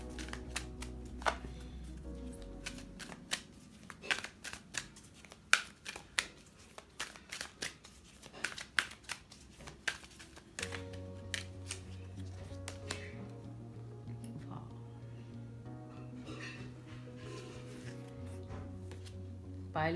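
A tarot card deck is shuffled and handled up close, giving quick crisp riffles and soft taps scattered throughout, with faint background hum and a little talk.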